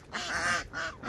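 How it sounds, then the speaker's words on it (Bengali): Ducks on a farm of about a thousand birds, raised on snails, paddy and layer feed, give two close, nasal quacking calls in quick succession, with no voices over them. "আমি যদি আপনাদেরকে একটু দেখাই, এই যে তার হাঁস দেখেন"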